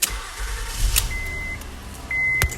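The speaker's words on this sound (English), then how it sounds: "you're going to start the vehicle with the key." A 2008-2012 Honda Accord started with the key, a car engine cranking and catching into a steady idle nearby, with a couple of electronic dashboard beeps and a chime during the start.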